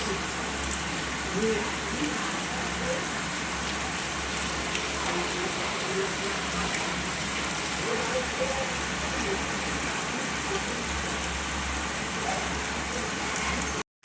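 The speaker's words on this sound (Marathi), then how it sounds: "पाऊस खूप पडत आहे आमच्या इथं, भयंकर पाऊस पडायला" Heavy rain pours steadily, a dense even hiss of drops on surfaces with a low rumble underneath, without a break.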